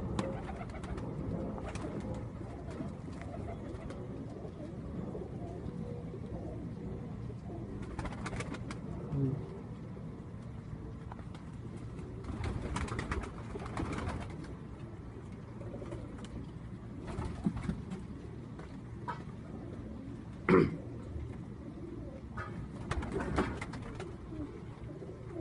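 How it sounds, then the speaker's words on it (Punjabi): Pigeons coo repeatedly in soft, low, throaty calls against quiet background noise, with a few scattered clicks and faint rustles between the coos. "ਇਹ ਕਬੂਤਰ ਕਿਹੜੀ ਨਸਲ ਦੇ ਨੇ"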